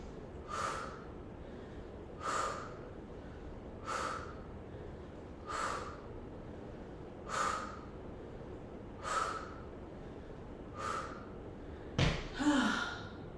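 Heavy breathing during a weightlifting workout: eight forceful, evenly spaced exhalations come roughly every two seconds, close and alone, followed by a sharp knock and a rougher final breath.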